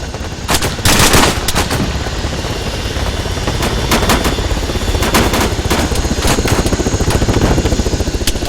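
Sustained automatic gunfire from troops seated on the benches of a helicopter in ArmA 3, loud rapid bursts over a constant rotor and engine drone, continuing throughout without talk.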